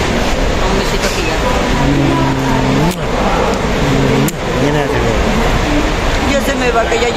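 A large road vehicle rumbles loudly and steadily close by with engine drone, idling and revving changes, and a couple of sharp knocks, consistent with a double-decker bus pulling up at a stop.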